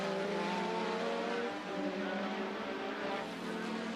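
1980s Formula 1 race cars at the German Grand Prix, Jones outbraking teammate Reutemann: a high, sustained engine drone with shifting pitch, steady and fairly loud.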